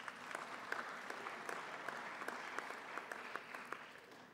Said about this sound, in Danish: Det må da godt klappes af.